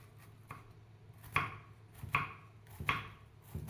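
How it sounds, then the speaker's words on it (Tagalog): A knife chops bitter gourd (ampalaya) into small pieces on a board, with about six crisp, sharp strikes at a slow, steady rhythm, close and alone with no talk. "Hiwa-hiwain ko lang siya ng maliliit."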